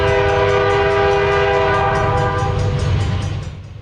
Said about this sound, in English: it was another train with a nice horn.